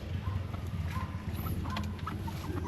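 Soft clucking from chickens in a shelter under a mango tree, mixed into a steady low rumble of background noise, with faint scattered calls throughout.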